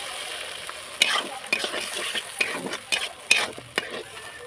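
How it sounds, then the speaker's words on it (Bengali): Masala with tomatoes frying in a pan, a soft continuous sizzle broken by irregular scraping stirs of a spoon, close and fairly quiet, without talk. "মশলাতে একটু জল দিয়ে ভালো করে কষিয়ে নেবো"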